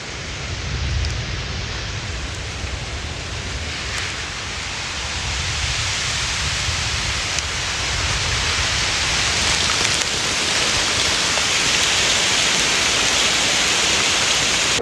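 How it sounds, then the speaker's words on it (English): Steady rain hisses down outdoors as a dense, even wash of drops, loud and constant with no voices. "we'll see what happens with this rain"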